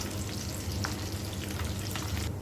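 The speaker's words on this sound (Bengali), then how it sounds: "ভেজে নিয়েছি, একটু হালকা জাস্ট একটু ভেজে নিতে হবে।" Slices of keema sandwich fry in a pan, giving a close, steady crackling sizzle with bright spitting pops across the whole short stretch, alone without voices.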